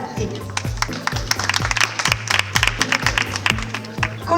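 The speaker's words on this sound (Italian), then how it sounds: "Un grande applauso." Steady audience applause greets beauty pageant contestants at a regional Veneto finale, a dense crowd of clapping hands under a rhythmic thumping music beat.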